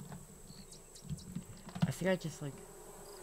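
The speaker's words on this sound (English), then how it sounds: "Alright, I saw the bees. There they are." Bees buzz in the video game Raft as a faint insect hum with brief louder swells, mostly under quiet talk from the player.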